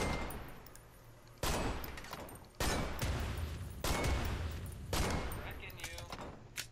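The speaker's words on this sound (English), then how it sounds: "Oh, you keep shooting it. Yeah, you keep shooting it." Gunfire from a rifle in the video game Deer Hunter 1944: four loud, sharp bursts of shots at roughly one-second intervals, each fading into a ringing tail, with a voice talking faintly underneath.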